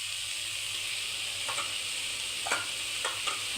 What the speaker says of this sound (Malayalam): ഇനി ഇതിനകത്തേക്ക് ആ പച്ചമുളക് കൂടെ ഇടാം.